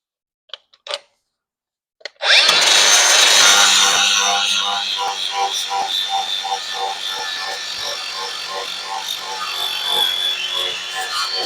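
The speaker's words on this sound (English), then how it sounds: "what I'm going to use is a flap wheel so I can skim over top of the sheet metal here to expose where the spot welds are" A flap wheel grinds over sheet metal on a vehicle frame to expose spot welds: a few faint taps, then a loud sustained whirring grind starting abruptly and running steadily to the end.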